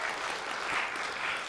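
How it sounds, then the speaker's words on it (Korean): A church congregation at a Sunday sermon claps together in a dense, even burst of applause that stays steady for a moment, with no one speaking. "박수 한번 쳐주세요."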